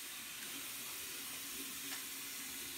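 A bathroom tap runs steadily as a toothbrush is rinsed under it, a continuous hissing splash of water heard alone with no speech.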